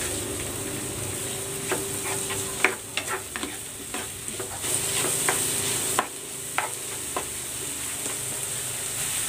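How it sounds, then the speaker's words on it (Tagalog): Chopped onions sautéing in butter in a pan, a steady close sizzle with scraping stirs and taps from a utensil scattered throughout, and no talking. "Igigisa ko na tong sibuyas."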